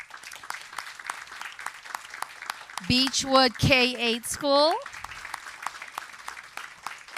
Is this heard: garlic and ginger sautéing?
no